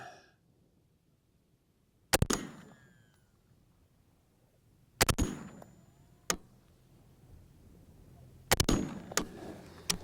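Three loud, sharp shots from a Hoffman Tactical Orca gun, spaced a few seconds apart, each with a quick follow-up crack and a ringing metallic tail over quiet outdoor background, no talking.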